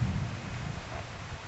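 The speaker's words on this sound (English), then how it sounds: "God, I love thunderstorms." Low thunder rolls steadily as a thunderstorm moves in, a faint, distant rumble with no voices over it.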